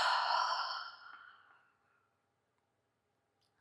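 A long, deep exhale at the end of a yoga stretching session, a soft breathy sigh that starts full and close, then fades gradually to near silence over about two seconds.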